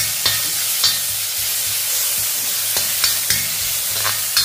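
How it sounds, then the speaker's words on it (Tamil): Crushed garlic and asafoetida sauté in hot oil with a strong, even sizzle, close and loud. Sharp stirring taps land every half-second or so, with no voice. "தட்டி வச்சுருந்த பூண்டையும் இதில் போட்டுக்கிடுவோம். இதை நம்ம வதக்கிக்கிடுவோம்."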